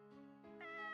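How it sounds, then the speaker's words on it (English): A cat in the Corpse Party: Book of Shadows video game lets out a single clear, drawn-out meow that rises in pitch, close and alone. "With its head tilted slightly to the side, it let out an adorable meow."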